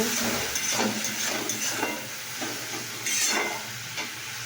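Spice paste stir-fried in oil, with close sizzling broken by repeated scraping stirs of a utensil through the pan, several rhythmic strokes over a constant hiss, and no voices.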